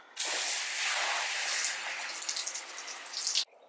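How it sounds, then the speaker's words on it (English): A spray of water rinses off a car during detailing, a close, steady hissing gush that starts abruptly, holds for about three seconds with some spattering variation, then stops suddenly. "Now I'm just going to rinse it off."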